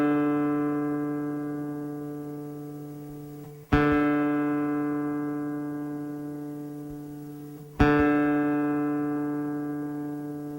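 Nylon-string classical guitar, its fourth (D) string plucked three times in even succession while being tuned, each note ringing out long and clear with a gradual decay, nearby and alone.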